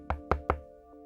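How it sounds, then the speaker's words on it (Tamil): Three quick, evenly spaced knocks land on a door at close range, followed by a fainter fourth tap over a steady background hum. "கதவை தட்டுற சத்தம் கேக்குது."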